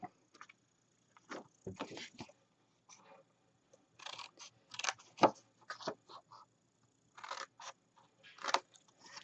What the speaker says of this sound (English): take your scissors and cut out the little square at the bottom